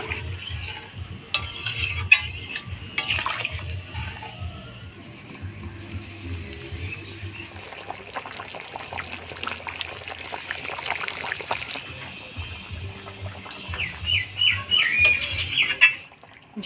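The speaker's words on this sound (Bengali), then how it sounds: "এবার জল দিয়ে দিই।" Water poured into a pan of potato and cauliflower in spices for a curry, a trickle and splash with stirring and scraping, briefly louder near the end, no clear speech.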